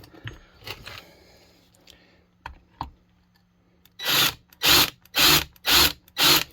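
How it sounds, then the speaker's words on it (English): Cordless power drill boring a hole into the plastic housing of a Homelite SXL-130 chainsaw during an ignition swap, heard as five loud, even bursts of whirring about half a second each, after some quieter handling clicks and taps. "Now I'm just going to go right in there and make a hole."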